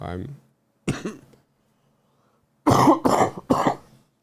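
Several deep, wet coughs close by from a person with a chest infection: a single cough, a pause, then three harsh coughs in quick succession.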